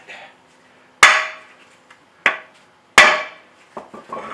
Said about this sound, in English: With a 3-pound hammer. 4-pound hammer. So I'm just going to beat the crap out of